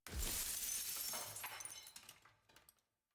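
Glass shatters loudly in a video game. A sharp crash opens it, and a scatter of tinkling shards follows and trails off into silence within about three seconds.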